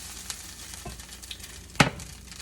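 A freshly flipped pancake made with low-protein mix sizzles quietly in a frying pan, a soft, steady crackle with a few small pops and one sharper scrape or spatter near the end.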